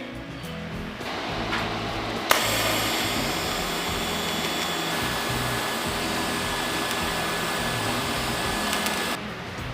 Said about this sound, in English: I'm gonna go ahead and do my stitch weld on this side